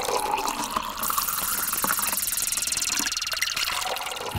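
Water splashes and rushes close by as a small caught croaker is released back into the water from a fishing outing, loud and continuous with a faint engine-like undertone.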